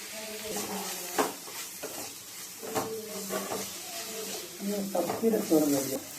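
Wilted leafy greens are stirred with a crushed coconut mixture in a pan, giving soft intermittent scraping and faint sizzling strokes at close range, quiet and irregular throughout.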